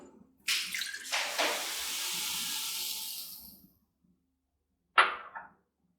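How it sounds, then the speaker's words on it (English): Water pours steadily for a few seconds with a bright hissing splash, then stops; a short clatter follows after a pause. "And add 1 cup of water."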